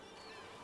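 Birds in the video game Dragon Age: the Veilguard give a short, faint honk, a single brief goose-like call heard alone.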